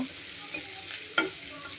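Spices fry in hot oil in a small pan as a tempering (bagar) for a mixed vegetable curry, a quiet continuous sizzle with a sharp scrape of stirring near the middle.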